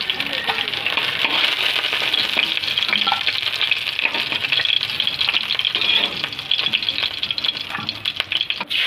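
Pieces of bhola fish fry in hot oil until reddish-brown, giving a loud, continuous sizzle with occasional rattles and clinks as the pieces are stirred and lifted from the pan, with no talking.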